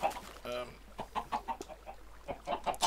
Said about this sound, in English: Just heard them squawking again.